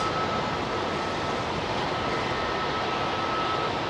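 An airliner departs from London Heathrow runway 27R, a steady, loud broadband engine roar with no breaks, like jet thrust heard from near the runway.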